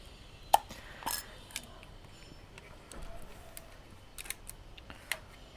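Minolta SRT201 film camera shutter firing at a range of speeds, several sharp, distinct mechanical clicks spread across a quiet room with faint handling noise in between and no talking.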